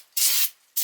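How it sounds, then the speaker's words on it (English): Aerosol carb cleaner sprayed onto a Volvo 140 valve cover: two short, close, loud hissing bursts separated by a brief pause. "So a little bit of carb clean, brake clean, pick your favorite."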